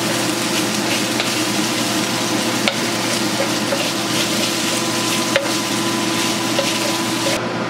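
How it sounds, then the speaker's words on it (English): Floured beef browning in a stir-fry pan hisses and crackles steadily up close, over a constant low hum, with a couple of sharp utensil knocks and faint pops scattered through. "As you can see, some of the beef is starting to brown now."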